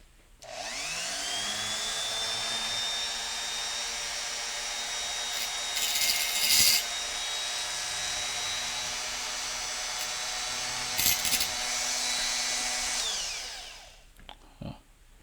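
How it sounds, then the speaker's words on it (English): A power grinder with a reinforced cutoff wheel cuts metal on a 2002 Honda Odyssey automatic transmission, a loud steady high whine spinning up then sustained for several seconds with brief harsher bursts of grinding contact before winding down. "grind it off with a reinforced cutoff wheel"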